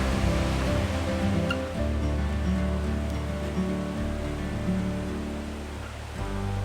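Tamanawas Falls crashes down with great force into its cove, a loud, steady roar of pouring water that continues without a break.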